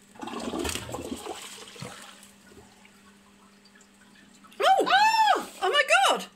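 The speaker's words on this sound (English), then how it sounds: "Shall I do a big flush?" A toilet being unblocked gives a big flush: water rushes and gurgles loudly in two bursts near the end, after a stretch of quieter background with some earlier noise.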